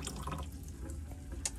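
Water runs and trickles down a camper sink drain toward the gray water tank, a faint, steady gurgling wash with a few soft drips, heard alone at close range.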